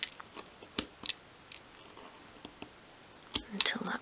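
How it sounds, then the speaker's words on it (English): Small scissors snip through miniature vertical moulding for a 1/12 scale dressing table, giving a handful of sharp, close, separate cuts spaced irregularly, with soft speech near the end. "carefully cut away that overlapping vertical moulding"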